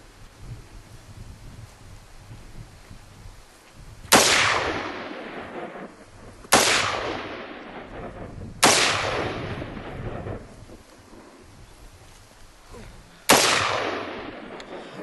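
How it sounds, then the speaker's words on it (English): Four loud rifle or pistol shots fired at a tree limb outdoors, widely spaced, each with a sharp crack and a long echoing tail rolling away, over faint background rustle. "Let's try to shoot the limb off that tree now."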